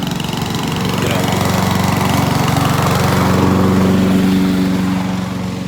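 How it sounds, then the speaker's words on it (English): Lawn mower engine running steadily at close range, a constant mid-pitched drone with a buzzing rumble that swells slightly and holds throughout, no talk over it. "The trimmer guy actually beat the mow guy because he's still finishing up with touching up with the mower."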